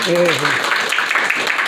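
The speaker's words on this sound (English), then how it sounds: "Give a round of applause to Ashley one more time." A game show audience at the Anthro New England 2022 convention applauds a contestant, a dense wash of clapping rising after a brief murmured voice at the start.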